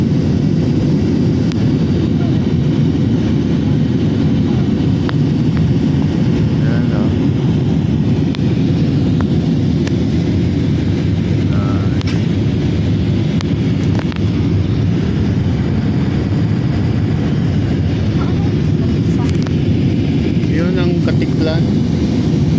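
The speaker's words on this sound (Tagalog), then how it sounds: "500 meters ang taas ng lipad ngayon ng eroplano" Airplane in flight about 500 meters up, heard from inside the cabin as a loud, constant low engine drone that does not let up.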